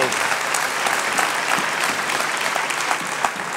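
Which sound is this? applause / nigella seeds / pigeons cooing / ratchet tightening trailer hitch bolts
applause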